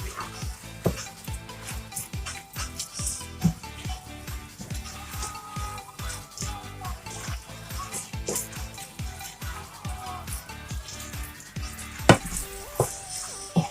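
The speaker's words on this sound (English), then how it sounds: "So now I'm just going to stir it a bit." Peanut soup (groundnut soup) frying in a pot while being stirred, a steady close sizzle with repeated spoon scrapes and knocks against the pot at an irregular rhythm.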